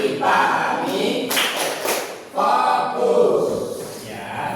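A class chants in unison during a focus-clapping routine, with a couple of quick clap bursts breaking through the steady group voices.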